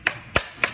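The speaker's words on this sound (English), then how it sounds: "Sorry, clapping along with you." Three sharp hand claps ring out in a slow, evenly spaced rhythm, close and fairly loud, with no talking, at a pitch session during a startup weekend event.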